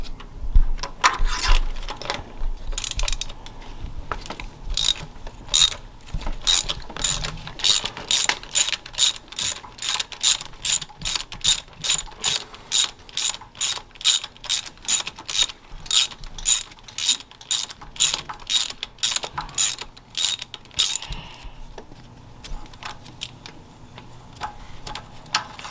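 A hand ratchet clicks in quick repeated bursts of strokes while loosening spark plugs on a 2007 Dodge Charger 3.5 V6, close and loud in a steady rhythm that stops near the end.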